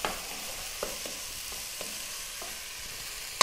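Chopped tomato hits a hot frying pan for Mexican-style shrimp, sizzling steadily while a utensil scrapes and knocks against the pan in several sharp strokes, with a louder clack at the end.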